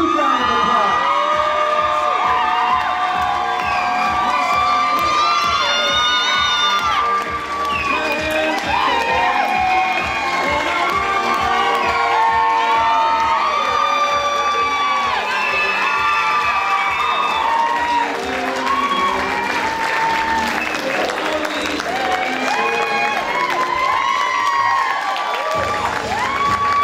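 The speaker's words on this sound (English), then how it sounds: "Huge round of applause." Wedding guests welcoming the newlywed couple into the reception room with sustained loud cheering, whooping and applause, a dense continuous crowd roar lasting the whole stretch.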